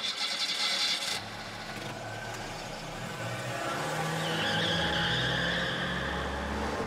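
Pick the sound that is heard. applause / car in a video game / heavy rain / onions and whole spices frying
car in a video game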